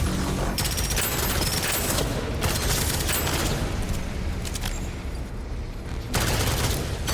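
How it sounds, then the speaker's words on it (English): Rapid gunfire in the shooter video game Deadzone Rogue, a loud, dense burst of repeated shots continuing almost without pause, with a brief lull near the end before firing resumes. "I just shot at a wall."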